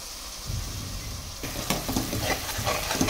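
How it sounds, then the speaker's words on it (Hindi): Chopped onions and green chillies sauté in hot oil in a kadai for dhaba-style kadai chicken, a steady sizzle with scraping stirs growing busier and louder partway through. "ये देखिए हमारे ये अनियन और ग्रीन चिली दोनों सॉटे हो रही हैं।"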